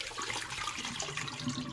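Water runs steadily over rice being rinsed for Puerto Rican white rice, a close, continuous splashing and trickling like a tap flowing into a bowl, with no talking.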